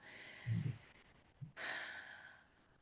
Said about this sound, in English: that breath work is as simple as taking a breath right now